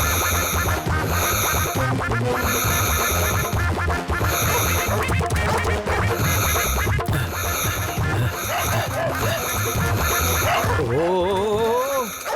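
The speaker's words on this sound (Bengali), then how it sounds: "এই ডগিগুলো কোত্থেকে এলো?" Cartoon dogs barking and yipping over loud, busy background music with whimpering, pitch-bending cries near the end; the barks sound close and repeated.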